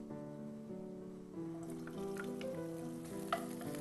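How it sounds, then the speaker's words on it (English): Finely chopped onions frying in hot olive oil, a faint, steady sizzle beneath a sustained low hum, with a few small crackles and one slightly sharper pop near the end, no voices. "heat a little bit of Leonardo olive oil, and once it is adequately hot, you are going to add the finely chopped onions to it"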